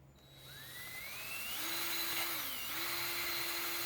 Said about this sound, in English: go ahead and use one of these wire wheels